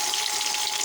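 Onions frying in hot oil in a pan, a continuous bright crackling sizzle, close and steady throughout the brief moment with no talking.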